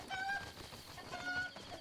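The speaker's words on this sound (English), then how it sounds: "So in all Zelda games, there's these things that look like chickens." Cucco chickens cluck in Zelda: Breath of the Wild in short, warbling, tonal bursts over a steady background of game ambience, moderately loud, with no voice.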